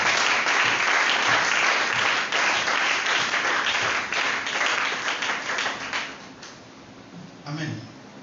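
A church congregation applauds the Lord with loud, dense clapping and crowd noise that thins out and fades after several seconds, leaving a few scattered claps.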